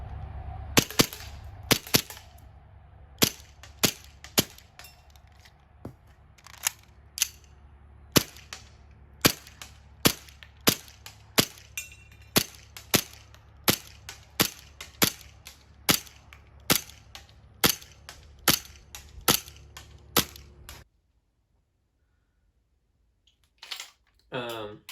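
Elite Force 1911 Tac Gen 3 airsoft pistol firing about two dozen sharp, close snapping shots in an irregular rhythm, some in quick pairs, over a faint room background that falls silent near the end.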